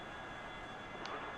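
Aircraft engine running at about 40% thrust as the plane starts to accelerate on the ground, a loud, steady broadband roar that holds even through the short stretch, with no talk.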